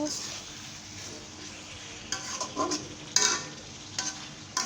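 Beef bhuna with ginger and garlic cooks in a pan, a soft low sizzle joined in the second half by a few scraping stirs and light metal clinks.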